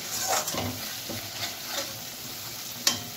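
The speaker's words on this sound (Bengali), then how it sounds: "সর্ষে বাটা দিয়ে বেশিক্ষণ কষানোর একদমই প্রয়োজন নেই, কিছুক্ষণ কষিয়ে আমি জল দিয়ে নেব" Mustard paste being sautéed in a pan for a tilapia and eggplant curry, with soft scraping stirs over a low sizzle and a sharp clink of the utensil near the end.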